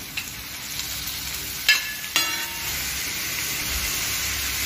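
Tomatoes go into a hot tawa for Punjabi-style mixed vegetables, bringing a steady close sizzle with a couple of sharp utensil clinks early on.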